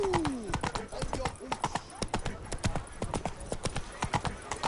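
Hooves clip-clop at a steady trot from Roach, a horse in The Witcher 3: Wild Hunt on PS5, closely heard with a brief whinny near the start while game characters talk over the rhythmic beats.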